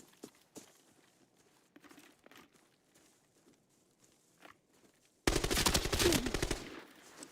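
Sniper fire in a multiplayer shooter game, a loud burst of rapid shots arriving suddenly after several seconds of faint footsteps and quiet movement, lasting about a second and a half.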